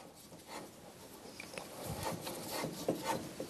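A pipe cutter is turned and tightened around a pipe, giving a soft, steady scraping and rubbing that builds slightly over a few seconds, close and fairly quiet, with no talking.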